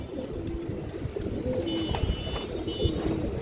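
Pigeons cooing in a loft, several soft repeated coos over steady background rustle and murmur, close by.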